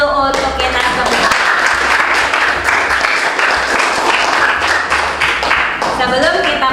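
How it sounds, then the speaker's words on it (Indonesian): Students in a classroom break into loud, lively clapping that stays busy throughout, with voices mixed in among the applause. "Yuk tepuk tangan dulu untuk kita semua."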